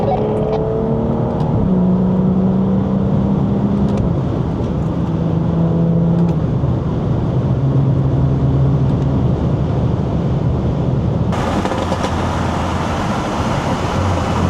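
A BMW 340 with a B58 engine sweeps past in a flyby, its steady engine drone rising and falling as it passes close and loud, with a brighter surge of noise near the end.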